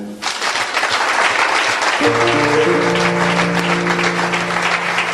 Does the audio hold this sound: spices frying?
no